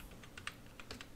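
Soft, rapid keystrokes on a computer keyboard while typing into the Windows 10 start menu search, a short quiet burst of about a dozen clicks in an otherwise hushed room with no voices.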